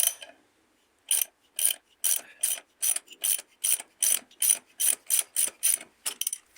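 A socket ratchet clicks in quick, regular bursts, about a dozen short strokes, while it works a harmonic balancer pulley off a Ford AU Falcon engine; the sound is close and clear with nothing else around it.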